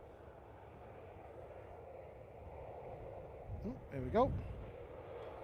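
A Ryanair airliner begins its takeoff roll at Liverpool Airport, a distant, steady jet engine rumble that swells slightly toward the end, with a person speaking briefly over it.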